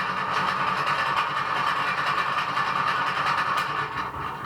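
Wessex rock tumbler motor running with worn, wobbly nylon geared splines that have broken teeth, giving a steady, loud mechanical drone with a rapid rhythmic grinding pulse throughout, no voices.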